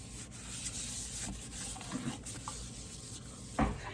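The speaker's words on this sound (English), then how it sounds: "I give it a quick rub down" A kitchen surface gets a quick rub-down with a cloth, a steady soft hiss of wiping under a constant background noise, ending in one louder knock.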